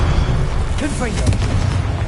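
A Confringo spell blast in Hogwarts Legacy, a low rumbling boom that sits beneath a voice speaking mid-clip, with a steady background of game noise.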